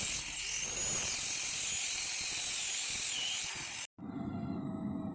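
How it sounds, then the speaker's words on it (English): A grinder cuts divots into a hand-forged Damascus steel billet, a steady high-pitched whine lasting several seconds, then a brief break before a lower, rougher grinding resumes. "I grind in divots to expose the pattern"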